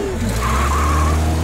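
A stolen cartoon ice cream truck skids away with a loud, sustained tire squeal over a steady engine rumble, continuous and close for the whole moment.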